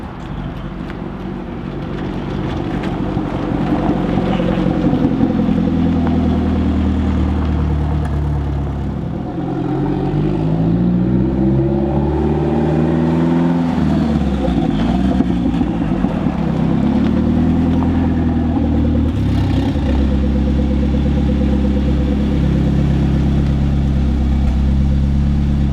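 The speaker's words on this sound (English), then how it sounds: "So guys, the Eclipse drives." A Mitsubishi Eclipse converted to a mid-engine layout runs and drives, a steady loud engine note with rising and falling pitch as revs change, heard alone without talk.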